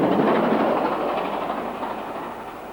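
A train on the Talyllyn Railway rumbles past steadily, loud and close, with a continuous rolling roar that fades slightly toward the end and no voices over it.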